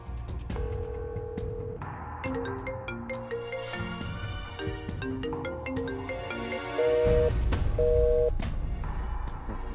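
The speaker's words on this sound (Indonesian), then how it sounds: "Ya dia pasti nggak mau angkat telepon saya lah, Lis." A phone call rings out unanswered, a looping electronic ringtone melody with steady repeated tones playing continuously and fairly loud, with no voices over it.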